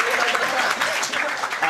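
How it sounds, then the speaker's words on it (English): A studio audience at a comedy news panel show breaks into steady, dense applause, loud and close, sustained throughout with no voices rising above the clapping. "You're coming out of that patriotic round of applause for our queen."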